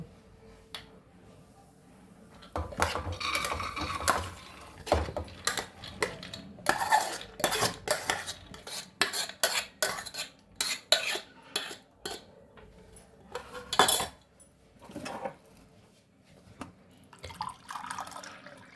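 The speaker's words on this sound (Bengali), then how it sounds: "এরপর আমি এই ডালগুলো কুকারে দিয়ে দেবো।" Soaked chana dal being tipped into a pressure cooker, with a long run of close metallic clattering, scraping and knocking from a spoon and cookware, wet splashy rustles mixed in, and uneven bursts of activity, no voices.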